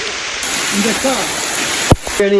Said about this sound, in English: The rain is coming. It is raining.